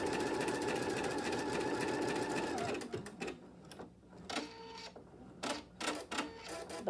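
An embroidery machine stitches quilt borders with a steady, rapid mechanical hum for about three seconds, then breaks into short intermittent bursts with quiet gaps between, close by and moderately loud.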